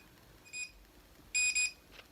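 An MKBOO automatic hair curler gives out faint high electronic beeps, one short tone and then a louder double beep, with a quiet room behind it.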